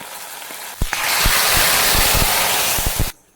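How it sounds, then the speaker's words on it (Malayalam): A hot tempering of onion, chillies and curry leaves is poured into an ash gourd curry, bursting into a loud, close hiss that holds for about two seconds with small pops and clinks, then cuts off abruptly. "ഉള്ളി മുളകൊക്കെ മൂത്ത് വന്നിട്ടുണ്ട് ഇത് നമുക്ക് കറിയിലേക്ക് ചേർക്കാം"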